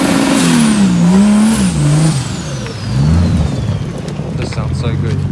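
A Nissan 200SX engine revs hard nearby at a beach car meet, rising and falling in pitch several times before settling into a lower drone. Voices talk underneath.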